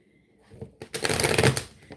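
A deck of oracle cards is shuffled half and half, a quick, close riffling flutter of cards lasting about a second after a few soft handling taps.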